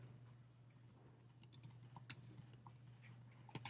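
Irregular clicks and taps of typing on a computer keyboard, close and faint, in quick uneven bursts over a low electrical hum.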